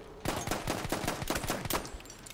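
SMG gunfire in Battlefield 1 during a pistols-only match: a rapid burst of roughly eight sharp shots in quick rhythm, loud and close, with no talk over it.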